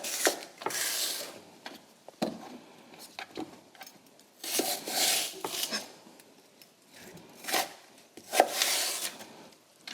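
A knife chops fruit on a cutting board for a cooked-down dessert sauce, a steady run of crisp, close taps and thuds in uneven bursts with no one speaking.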